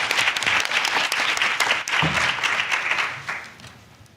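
Conference audience applauding to welcome a panel, a dense burst of many hands clapping together that holds steady, then thins and fades out near the end.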